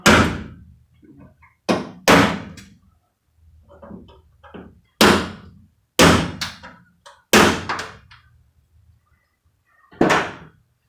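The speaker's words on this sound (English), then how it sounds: "That knocks the steel pins out of the center, makes it easier to drill." Sharp metallic knocks in irregular clusters, a punch driving steel pins out of aluminum-headed rivets that hold a window regulator on a Lil Red Express under restoration, each strike close and loud with quiet gaps between.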